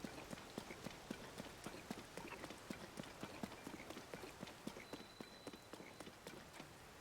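Horse hooves clip-clop at a brisk, even gallop in Legend of Zelda: Tears of the Kingdom, the rapid thuds close and moderately quiet, running continuously with no voices.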